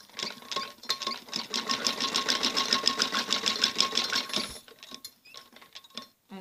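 A sewing machine stitches the neck strip of a kameez jacket, a close, rapid rhythmic clatter running for about four seconds before stopping, followed by light handling noises.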